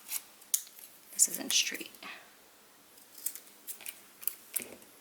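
Scissors trimming paper for a Christmas 3D craft mailbox, a series of close, crisp snipping cuts in uneven bursts, with a soft spoken voice briefly in between.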